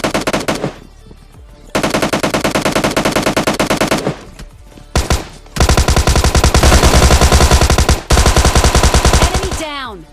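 Heavy gunfire from the PUBG Lite shooter game: loud, sustained bursts of automatic fire with short breaks and scattered single shots, close and dense across the whole stretch.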